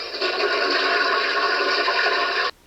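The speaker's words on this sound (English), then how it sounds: "it ends with a toilet flushing" A toilet flushes loudly at the close of a 1986 parody song recording, one steady rushing gush of water for about two and a half seconds that then cuts off abruptly.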